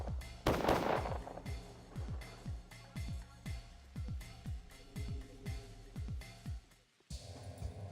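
In Pathologic, a dozen or so gunshots go off one by one at a steady, spaced pace, each a sharp crack with a booming tail, fairly loud and close, broken by a short pause near the end.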